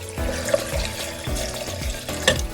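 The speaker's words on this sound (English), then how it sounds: "I'm then going to put 1 cup of warm water and the milk that was extracted from the coconut in here." Warm water and coconut milk being poured into a blender for Trinidad-style coconut bake, a steady splashing gurgle with a few sharper clinks, close and alone.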